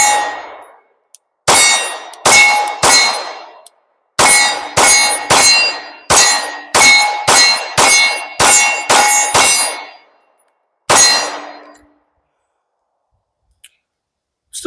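Glock 19 pistol with an LEO Precision Shadow slide firing 9mm rounds at a steel target, about a dozen sharp shots in quick irregular bursts, each ending in a bright metallic clang and ring, loud and without talk.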